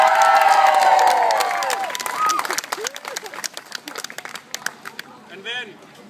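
A crowd at the New Jersey Renaissance Faire cheers and applauds loudly, with a big roar of clapping and shouts at first that thins into scattered claps and calls, and a few whistles near the end.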